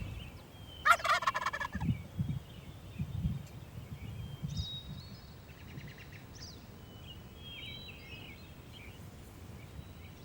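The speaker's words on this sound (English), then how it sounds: "got one gobbler located" Wild turkey gobbler gobbling out in the woods at dawn, one loud rattling gobble early, then fainter distant gobbles and bird calls over a quiet outdoor background.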